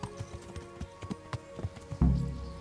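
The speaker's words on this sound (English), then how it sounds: "We're just riding very slowly with each other by a horse." Horse hooves clip-clopping at a slow ride in the medieval game Kingdom Come Deliverance, a steady run of evenly spaced soft thuds, close by, followed by a louder deep thump near the end.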